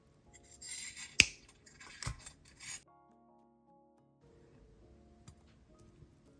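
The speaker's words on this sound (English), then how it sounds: "Cut off the excess beading wire." Cutters snipping excess beading wire while making a necklace, heard as a crisp snip among soft rubbing and handling sounds, then near silence.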